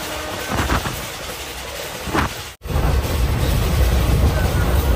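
An express train racing along at high speed past a station, heard from on board as a continuous roaring rush of wheels and wind, briefly cutting out for an instant midway before resuming.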